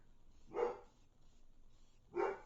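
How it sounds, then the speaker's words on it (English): A pet dog named Ryu barks at the mail lady from indoors, two separate bark bursts about a second and a half apart, moderately distant and fairly quiet, with no talking. "He's barking at the mail lady."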